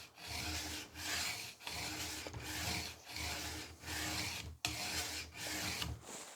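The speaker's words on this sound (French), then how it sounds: "Je recommence 10 passes sur la pierre." A kitchen knife is drawn along a whetstone in long, even strokes, each a loud, close rasping rub separated by brief gaps, about ten passes in a steady rhythm with no speech.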